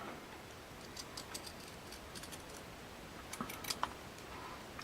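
Scissors snip through craft paper to trim a heart shape for a journal page, giving a series of faint, quiet clicks and short cuts that cluster toward the end, close by with no talking.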